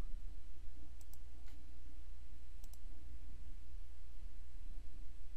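Computer mouse clicks during photo editing in Adobe Express: a few faint, sharp clicks, a pair near the start and another pair midway, over a steady low hum of room noise.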